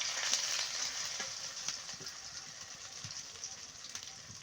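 Chili paste and ginger-garlic paste hitting hot oil with layer chicken for a village-style curry, a hissing sizzle that starts loud and slowly eases, with a voice speaking over it.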